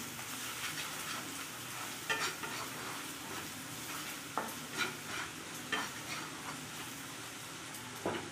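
Egg curry sizzles quietly in a pan while a spoon stirs it, with steady frying hiss and a few light scraping knocks against the pan, close and alone without talk.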